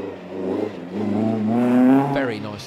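Ford Escort rally car pulling away hard after a handbrake spin at a hairpin on a stage rally at Brands Hatch, its engine climbing in pitch through one loud continuous rev with a brief tire chirp, heard alongside a commentator's voice.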